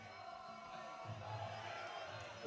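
Crowd at a Muay Thai fight roaring and cheering in a continuous swell, loud and sustained across a short moment.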